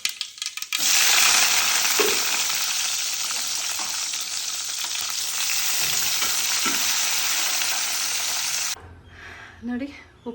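Upma, a savory breakfast dish, fries and gets stirred in a pan at home, giving a loud, steady sizzle with scraping spoon strokes for most of the stretch before cutting off to quiet clinks.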